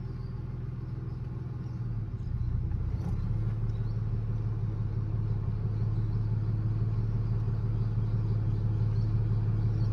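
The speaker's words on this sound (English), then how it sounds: "first gear, and you want it to go as slow as possible without touching the brake or the accelerator" A TD42-engined ute crawls in first gear over flat dirt, its engine a steady low diesel rumble that swells slightly after a couple of seconds, close and constant with no talking.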